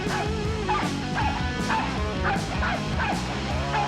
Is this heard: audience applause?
no